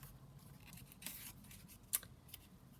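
Scissors cutting paper for a handmade junk journal, a few soft snips and a brief tearing rustle, close but quiet, with one sharp click partway through.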